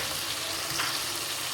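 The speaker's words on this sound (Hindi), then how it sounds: "अब इसमें डालेंगे अपने आलू" Potatoes tipped into a pan of frying onion and tomato masala, giving a steady soft sizzle with a brief rustling stir in the middle, close and fairly quiet.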